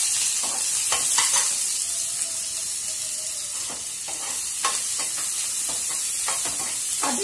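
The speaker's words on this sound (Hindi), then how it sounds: "मैंने यहाँ पे 2 बड़े प्याज को बारीक चॉप करके रखा है" Two large finely chopped onions fry in hot oil for chole masala, giving a continuous loud sizzle with a steady hiss and occasional stirring scrapes close by.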